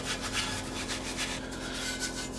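Steady, rhythmic scrubbing of steel wool across a cast iron aebleskiver pan, stripping off old seasoning, a continuous gritty rasp heard up close with no talk over it.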